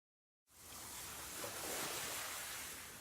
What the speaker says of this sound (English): Swishing noises of the ocean.